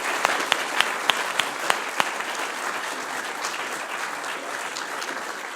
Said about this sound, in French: Merci, on peut vous applaudir